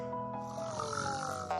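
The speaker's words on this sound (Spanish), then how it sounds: "¿Hasta cuando roncas, linda?" A cartoon character snores in a drawn-out, nasal breath with a grunting, tonal quality, one long snore filling the short moment.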